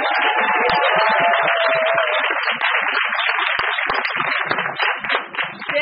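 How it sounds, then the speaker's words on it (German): Audience applause at a live indoor stage show, a dense, steady wash of clapping from many people that holds loud for several seconds before thinning out toward the end. "Toll, einen kleinen Applaus."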